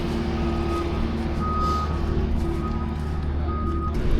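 Big salt trucks reverse through a New York City snowstorm, their steady reversing beeps repeating over a loud, constant diesel engine rumble close by.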